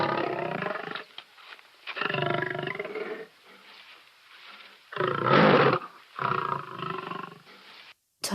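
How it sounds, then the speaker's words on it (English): A lion roars in a series of deep, loud bursts separated by short pauses, close and powerful with no other sounds. "Lion."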